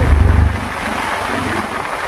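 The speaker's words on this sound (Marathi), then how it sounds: "किती पाणी प्रेशरने चाललंय" The Ulhas river in flood after heavy rain rushes under an old bridge, a loud, constant roaring surge of water with low rumble and wind buffeting the microphone, no speech.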